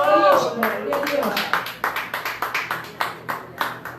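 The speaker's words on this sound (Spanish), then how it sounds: "Una fuerte alabanza de aplauso al Señor" A church congregation claps in praise: after a brief spoken phrase, sharp claps settle into a steady, rhythmic beat that carries to the end.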